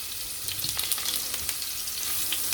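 Close, continuous sizzling of vegetables frying in a pan, with bright crackles and small pops scattered through the hiss.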